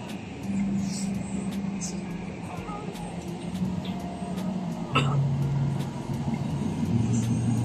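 Night road traffic in a congested city, a steady low hum of idling and passing cars and buses with occasional engine swells, heard from inside a vehicle at moderate distance.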